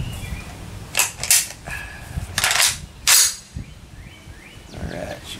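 An M1A Scout Squad rifle firing 150 grain pointed soft-point rounds during sight-in: several sharp, loud shots spaced irregularly a second or more apart, each with a brief ringing tail over an outdoor range background.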